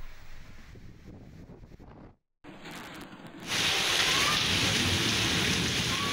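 Heavy rain pouring steadily, a dense hiss that grows louder and fuller partway through after a brief dropout, with no voices.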